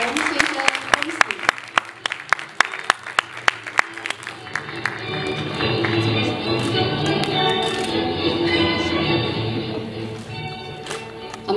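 Applause at a 2018 cultural and creative industry news reporting award ceremony: sharp individual claps ring out first, then swell into steady, dense clapping from a large seated audience that continues to the end, with voices mixed in.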